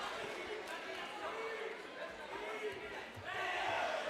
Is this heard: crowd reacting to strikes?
yes